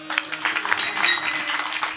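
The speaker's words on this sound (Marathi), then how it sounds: "एकदा टाळ्या वाजा." A kirtan audience breaks into brief applause, a dense patter of many hands clapping together over a faint sustained musical drone.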